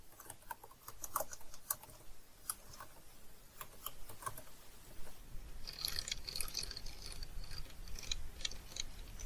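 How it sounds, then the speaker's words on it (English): Someone types on a computer keyboard while filling in form fields, a quiet, steady run of close key clicks with no voices. "typing in the required data"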